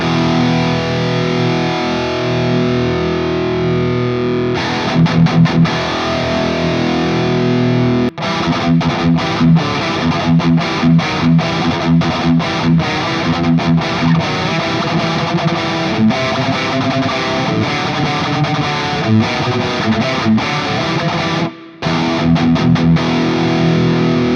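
Electric guitar played through a Whimsy Machines Sweet Tooth distortion pedal, with chugging rhythm chords and palm-muted stops in a loud, continuous riff and no talking.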